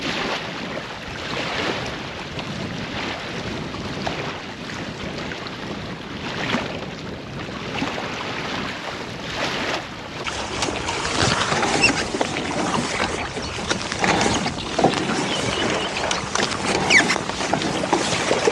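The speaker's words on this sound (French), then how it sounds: "Les vagues et le vent me poussent dedans." Waves and wind push a small boat toward a riverbank near a lock, with steady water sloshing and wind buffeting close by that grow louder and rougher in the second half.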